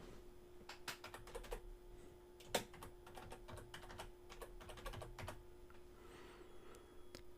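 Typing on a computer keyboard to edit a title, steady irregular key clicks close to the mic, fairly quiet, with no voices.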